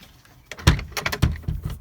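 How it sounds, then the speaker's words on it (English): A greenhouse door is pulled shut with a solid thump, followed by a couple of quieter knocks and rattles as it settles, close up with no talk. "Shut this door."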